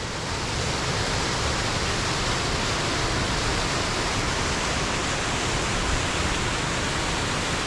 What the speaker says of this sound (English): As you can see, there's some lovely waterfalls and things.